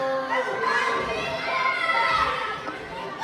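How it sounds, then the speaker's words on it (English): A crowd at an independent wrestling championship match cheers and shouts for wrestler Benett Cole, a busy mix of many voices, including higher children's shouts, rising and falling together in a lively roar at some distance. "The crowd trying to get behind Benett Cole"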